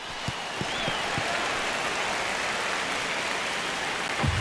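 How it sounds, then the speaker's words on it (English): Baseball stadium crowd during a one-run ninth inning, a broad steady roar of many voices filling the space, moderately loud, with a few sharp thumps near the start and end. "Crowd locked in right now."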